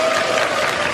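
A seated audience at a political talk event claps in a dense, even burst of applause that fills a short moment at full strength.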